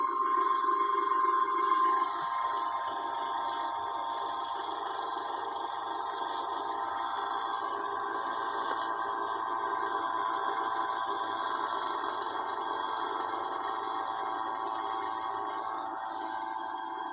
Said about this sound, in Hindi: देखें पानी चल रहा है।